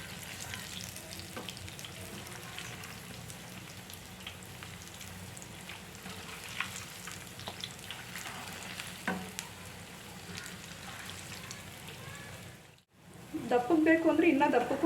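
Hotel-style urad dal bondas deep-fry in oil over a medium flame, making a steady dense sizzle that runs for most of the clip. Near the end it breaks off briefly and then comes back louder and harsher.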